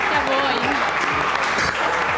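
A studio audience applauds on a sports television show, a dense, steady clapping that fills the clip while a voice talks over it.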